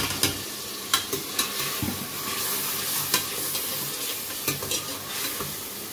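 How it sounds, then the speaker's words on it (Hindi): Onions fry in oil with spices for a tori (ridge gourd) sabzi, giving a steady close sizzle broken by regular sharp scrapes and clinks of a spoon stirring the pan; no one speaks. "प्याज ऑयल में डाल दिए तो ये थोड़े से वो हो गए, भून गए"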